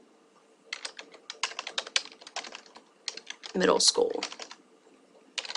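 Quick bursts of typing on a computer keyboard as a search is entered into Google, close clicking keystrokes in rapid runs with short pauses, and a voice speaking briefly partway through.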